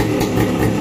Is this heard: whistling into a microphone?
no